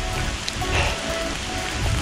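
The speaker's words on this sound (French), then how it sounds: "Ça fait 7 heures qu'il pleut." Rain that has fallen for hours during trail-running preparation gives a steady, dense patter and hiss close by, unbroken throughout, with no voices.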